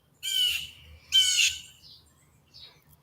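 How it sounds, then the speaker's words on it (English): Birds squawk and screech harshly in two loud bursts close by, followed by fainter chirps, heard outdoors with no talking. "Bird fight."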